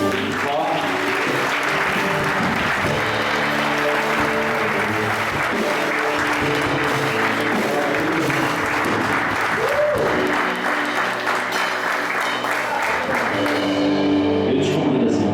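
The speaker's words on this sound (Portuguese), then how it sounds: "Você pode aplaudir" A church congregation applauding, a long continuous wash of clapping that stays loud and steady for about fifteen seconds, with scattered voices and a background tone underneath.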